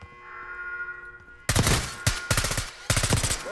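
Gunfire aimed at a car in Call of Duty Black Ops 6, starting after a quiet hum with several sharp, loud rapid bursts separated by short gaps, close and alone without talk.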